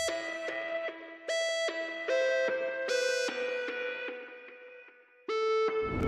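A Serum synth chord melody with delay, reverb and EQ applied: bright, buzzy pulsing chords in a rhythmic pattern, with echoing tails smoothly filling the gaps between notes and no talking.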